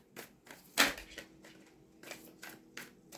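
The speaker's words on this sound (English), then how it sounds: "Get you some good shuffles in here, give you a nice three-way split" Tarot cards from a Necronomicon Tarot deck shuffled by hand and split three ways, making a series of soft papery riffles and taps with one sharper flutter near the start, close and fairly quiet.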